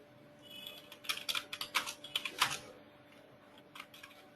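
Quiet typing on a computer keyboard: a quick burst of about a dozen key clicks that rise to louder strokes in the middle, then taper off to a few isolated taps.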